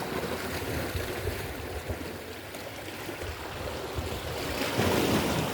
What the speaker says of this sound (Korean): 파도는 잔잔합니다